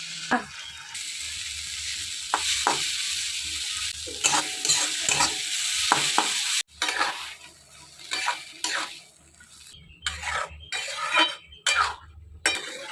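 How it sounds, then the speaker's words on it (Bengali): An egg cracks into bubbling curry in a pan over steady frying sizzle, with repeated utensil clinks and stirring scrapes that break up the hiss in the later half. "তো এই ডিমটা ফাটিয়ে এখানে দিয়ে দেবো।"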